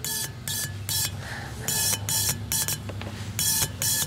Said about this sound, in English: you'll see that the injector will start spraying